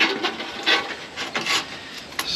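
Metal chimney pipe sliding snugly over another pipe during a wood stove chimney install on a metal roof, giving a few short scraping, rubbing rasps close by with brief pauses, no talking.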